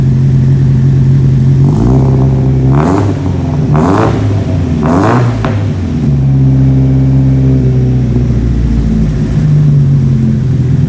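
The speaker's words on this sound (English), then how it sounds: "Rev it up a bit." A Nissan 180SX Type X engine idles loudly up close, then revs in three or four rising and falling blips before settling back to a steady idle.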